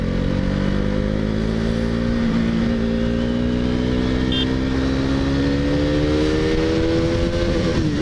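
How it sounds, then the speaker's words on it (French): A KTM Duke 390 motorcycle engine revs up, its loud, nearby whine climbing steadily in pitch before holding high near the rev limiter, heard alone without talk. "Un rupteur, tu vois."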